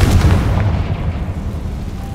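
A Confringo blasting spell exploding in the video game Hogwarts Legacy, a loud deep boom with a rumbling low-end roll that decays over about two seconds.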